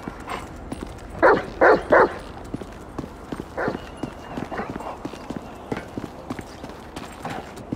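In Grand Theft Auto V, a dog lets out a quick run of three loud, sharp barks, followed by softer scattered yips and game sounds, with voices in the background.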